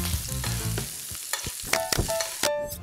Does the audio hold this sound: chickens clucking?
no